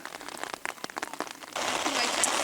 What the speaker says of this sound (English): the rain has come a bit earlier today